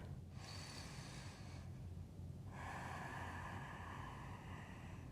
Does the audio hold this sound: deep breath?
yes